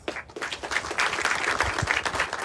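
An audience at the La Joya Commons groundbreaking claps steadily, a dense round of applause from a crowd sustained throughout.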